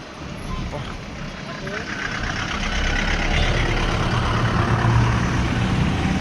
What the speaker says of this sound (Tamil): டுக் வண்டியில் இப்போ போயிட்டுருக்கோம்